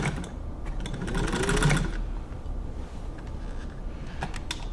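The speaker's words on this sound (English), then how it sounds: "I'm just testing the motor to see if it works." The motor of a Singer 15-91 sewing machine whirs and rattles close by, swelling and then easing back, with a light mechanical clatter and a few ticks near the end, and no talking.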